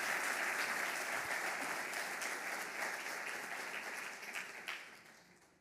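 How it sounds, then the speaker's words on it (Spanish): A church congregation breaks into applause for the Lord, a dense, loud sustained clapping from many people that gradually tapers off toward the end. "Dale ese aplauso al Señor"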